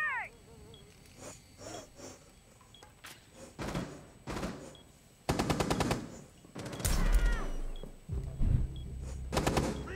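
Bursts of rapid gunfire in the video game Rainbow Six Siege, several loud volleys with pauses between, mixed with other game effects and faint background noise.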